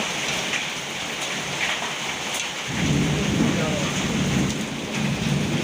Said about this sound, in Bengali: এই যে শিলাবৃষ্টি এই যে হচ্ছে শিলাবৃষ্টি